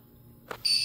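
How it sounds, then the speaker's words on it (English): A fire phone system panel, an EST3, gives a steady, high-pitched electronic beep that starts abruptly after a brief soft thump and holds to the end of the moment. "We'll get a audible beep"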